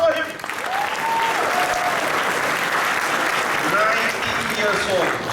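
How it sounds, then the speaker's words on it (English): A crowd at a business event applauds in steady, sustained clapping from start to finish, while someone speaks over it. "One more round of applause for him."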